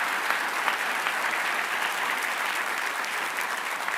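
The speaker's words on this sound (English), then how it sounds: "Let's give a round of applause to the Mayor's military mission." An audience at a mayor's military induction ceremony claps steadily and loudly, a dense applause that holds throughout without pause.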